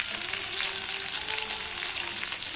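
Onion fries in a pan until browned, giving off a loud, continuous hissing sizzle that stays close and unbroken throughout.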